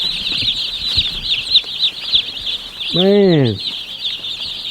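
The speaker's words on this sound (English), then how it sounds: "Wow, look at all these chickens." Crowd of about 150 young chickens in a portable outdoor brooding coop, giving a steady chorus of high chirping and clucking throughout, with someone speaking briefly over it.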